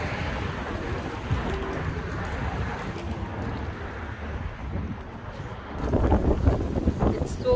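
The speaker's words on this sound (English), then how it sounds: "It's windy today, it's so windy." Steady wind buffeting the microphone, a low rumbling roar throughout that swells louder near the end, with faint voices underneath.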